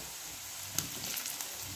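Potatoes drop into hot oil with onion and turmeric, making a soft, steady sizzle with a small clatter as they land and light stirring noises afterward.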